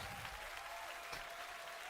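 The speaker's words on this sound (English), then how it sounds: "Yeah. Applause." A crowd at a GBB25 beatbox battle claps in a steady, faint, distant wash of applause that lasts throughout.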